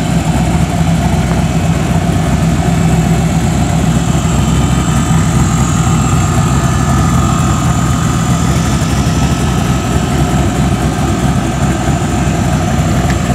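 A 1957 Chevrolet Bel Air four-door station wagon on race tires idles steadily, its engine giving a continuous low rumble and vibration close by with no talking.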